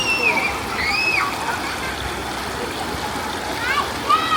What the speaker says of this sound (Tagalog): Naliligo yung mga bata, guys.